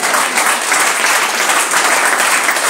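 A church congregation breaks into sustained, dense applause that fills the space evenly from start to finish, with no voices standing out above the clapping.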